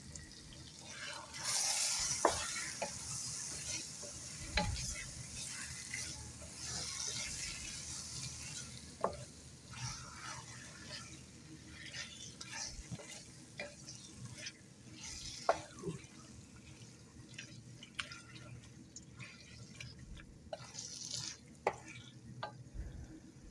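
Lean, fat-free meat is stirred and fried in a pot with no water added, soft sizzling under repeated scraping strokes of a spoon at close range, with some faint clatter.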